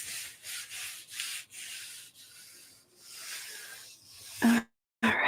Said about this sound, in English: All right, give it a good rub.